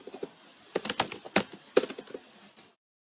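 Rapid keystrokes on a computer keyboard come in uneven bursts and short runs, close and fairly loud, then stop, leaving a moment of silence at the end.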